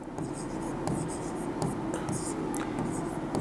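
Pen scratching on paper during a math lesson, a close, steady scribble of short strokes with soft pauses, while a faint voice murmurs beneath it.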